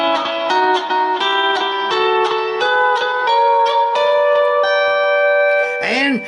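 Guitar notes climb up a single string in a whole step, whole step, whole step, half step pattern, each note plucked clearly and ringing into the next, with a bent, wavering note at the end.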